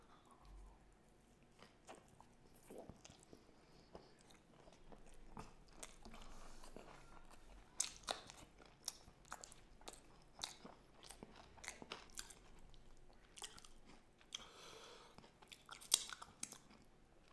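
Close, crunchy biting and wet chewing of makki ki roti (cornmeal flatbread) with sarson ka saag (mustard greens), repeated bites and mastication sounds throughout with no talking.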